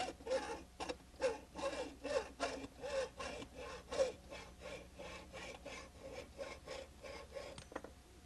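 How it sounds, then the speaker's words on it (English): A hacksaw cuts through metal pipe or PVC tubing in steady rhythmic push-and-pull strokes, about two per second, each with a close, gritty rasp, and no one talks. "We've used the hacksaw for cutting metal pipe and PVC tubing."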